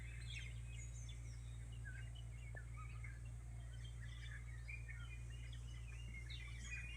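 Birds outdoors near a farm give scattered chirps and short calls, faint and a little distant, over a steady low background hum.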